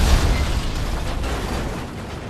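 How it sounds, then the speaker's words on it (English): A sticky bomb explodes in a video game: a loud, booming blast at the start that fades into a rumbling, noisy tail, with no talking. "I got a sticky bomb on me."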